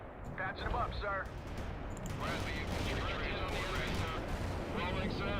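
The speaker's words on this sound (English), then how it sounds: "Look at all these explosions." Battlefield explosions and gunfire from the video game World in Conflict, with repeated booming blasts and crackling shots layered over a dense rumble, while a voice speaks over the action.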